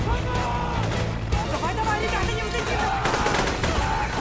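Rapid gunfire crackles through an action film scene, mixed with other busy sound and overlapping voices.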